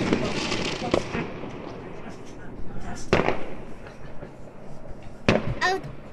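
Fireworks and firecrackers bang outside at a New Year celebration, several sharp separate cracks spaced a few seconds apart against a rumbling background, with people talking nearby.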